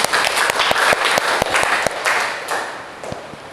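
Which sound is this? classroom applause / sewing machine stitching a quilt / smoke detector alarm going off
classroom applause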